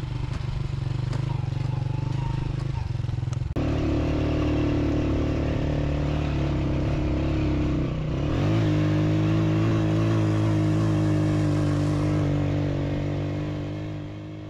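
A locally modified motorbike climbs a mountain trail toward glacier meadows near Rama Lake, its engine a steady, loud, close drone that shifts pitch slightly midway as the rider works the throttle.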